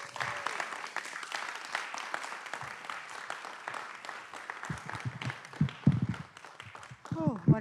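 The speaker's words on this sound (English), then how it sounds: "Let's give her a big round of applause." Audience applause after a County Board of Commissioners meeting honors a reverend, a broad steady wash of clapping across the room that runs throughout, with a few louder bursts and voices near the end.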